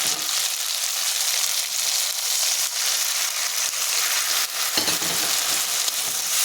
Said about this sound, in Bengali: যত সুন্দর ভাজা হয়ে গেছে, এখানে আমি দিয়ে দেবো সামান্য জল